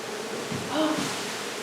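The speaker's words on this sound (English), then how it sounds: "there's a lot of bees here" Honey bees swarm during a bee removal, making a continuous close buzzing drone that holds steady throughout and swells slightly in the middle, with no speech over it.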